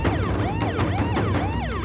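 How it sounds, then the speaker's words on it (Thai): Several police car sirens wail at once, overlapping rising and falling tones sweeping together as many cruisers close in, loud and continuous throughout with no talking. "โอ้ยมาทั้งโรงพักเลยรถตำรวจมาจากไหนเยอะแยะเนี่ย"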